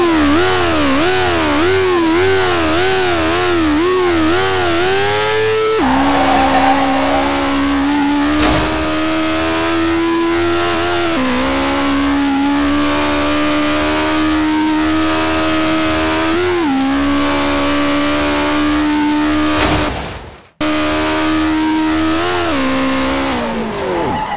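A car in the SLRR driving game revving hard as it lifts its front wheels, the engine note rising and falling through repeated gear changes, loud and close, with a brief cutout near the end.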